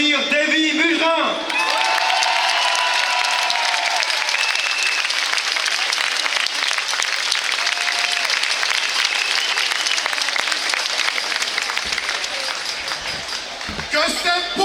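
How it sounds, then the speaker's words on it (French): Loud, sustained crowd applause with scattered cheers and shouts fills a Paris outdoor rally, starting after a brief voice and swelling evenly for over ten seconds before tapering near the end. "Je vous prie d'applaudir Davy Mugerin."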